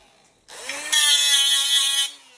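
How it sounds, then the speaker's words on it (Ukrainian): An angle grinder spins up with a sharp, high whine that grows louder and runs steadily for about a second and a half before cutting off. The sound is close and heard alone, without talk. "Беремо болгарку, дивимося."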